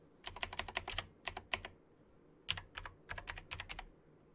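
Bursts of rapid keyboard typing, crisp clicking keystrokes in quick runs separated by short pauses, close and clear with no voices.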